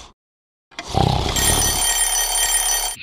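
A loud alarm clock starts ringing after a brief silence, a bright, continuous metallic bell ring that holds steady and close for several seconds.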